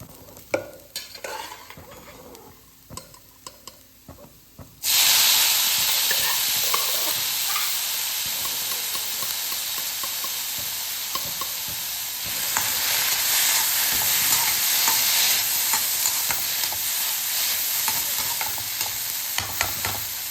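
Boiled sundal lentils stirred and sautéed in a pan for a Navaratri offering: quiet scraping at first, then a loud, steady sizzle with ongoing stirring scrapes and no talking.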